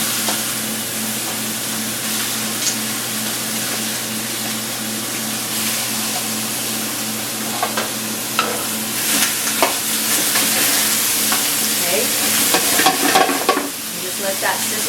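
Chicken back and beef bones sizzle steadily in a hot pot for pho, a continuous close frying hiss with occasional stirring scrapes and clinks that grow busier toward the end; a voice speaks one brief word.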